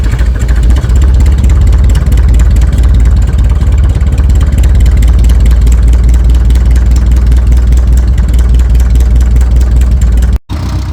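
An International TD-9 crawler tractor's engine idles while warming up, a loud, close, steady low diesel throb with rapid regular firing, unchanged throughout until a brief dropout near the end.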